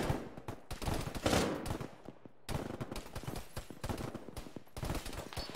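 Rapid bursts of gunfire in an ArmA video game session, sharp repeated shots in uneven clusters with a brief pause, fairly loud and close, no talk.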